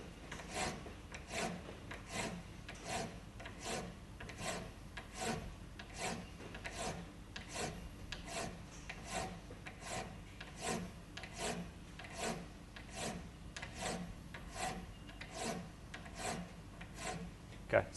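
A metal piston coupler held in a vise is filed by hand in steady, even rasping strokes, roughly one per second, close and fairly quiet with no talking.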